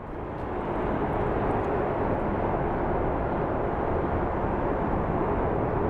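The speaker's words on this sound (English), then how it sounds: "We are about to get a Delta Airlines crossing into frame." A Delta Airlines airliner passes near Phoenix Sky Harbor International Airport, a loud, steady, broadband jet roar that swells in the first second and then holds evenly, with no voices.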